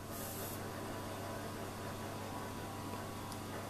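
Butane gas hissing steadily as a lighter is refilled through an adapter nozzle pressed onto its valve, a constant close spray-like rush with a faint low hum underneath.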